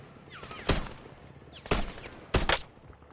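Three separate bursts of gunfire from the Warzone video game, each a sharp loud crack with a short tail, spaced about a second apart with quiet in between.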